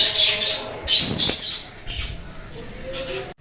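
Birds squabble outdoors in sunshine, with bursts of sharp chirps and screeches in quick, irregular succession, moderately close, and a few faint low coos and rustles between them.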